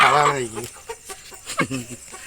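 A sick chicken clucks and squawks close by in a short burst, with a few quieter clucks trailing after.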